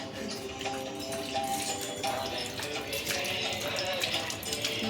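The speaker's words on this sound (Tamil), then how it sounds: "use your left hand to open the tap." Water runs from a tap into a vessel during a morning prayer at home with new lamps and flowers, a steady broadband splashing under continuous household noise and some faint talk.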